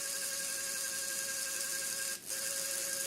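A small electric motor in a Borg costume scanner, driven through an H-bridge, whines steadily with a buzzing high-pitched tone, dipping briefly as it reverses direction before resuming.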